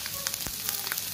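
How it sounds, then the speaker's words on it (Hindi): Vegetables for egg fried rice stir-fry in a pan with a brief, soft, steady sizzle at moderate distance. "अब ये देखें कितना प्यारे वेजिटेबल्स स्टर फ्राई हो गए"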